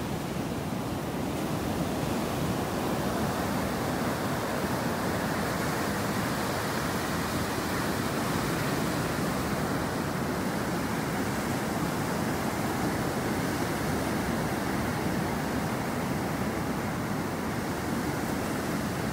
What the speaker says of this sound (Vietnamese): Con sóng cách nhau vào khoảng 3 giây.